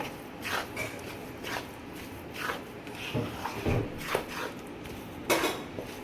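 A spoon scrapes and knocks in a pan as besan and maida are stirred with ground cardamom, producing soft irregular scraping with light clinks under a low background hiss.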